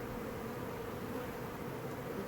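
A honey bee swarm in a backyard garden hums with a dense, continuous buzz, steady and close throughout with no pauses.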